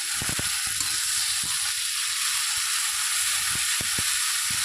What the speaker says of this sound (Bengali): এটা দেওয়ার পরে আবারও একটু একটু ভেজে নিতে হবে যাতে কাঁচা গন্ধটা চলে যায়